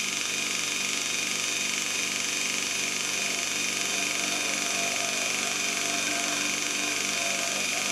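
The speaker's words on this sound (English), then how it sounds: "Try to use the whole face of the grinding wheel." A lathe radius tool being ground freehand on a bench grinding wheel, without a tool-rest fixture, gives a steady, continuous grinding whine that holds throughout at an even level with no voices.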